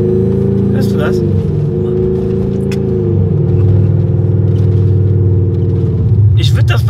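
Mercedes G-Class widebody engine idling, a steady deep rumble with a slight rise in revs partway through, close and loud, with people talking over it.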